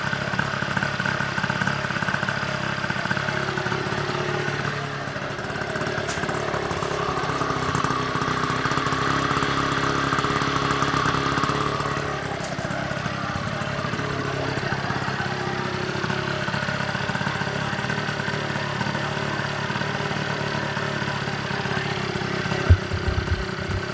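A Honda scooter engine runs steadily for a long stretch, a buzzy idling rattle with slight shifts in pitch and a faint clatter, close by.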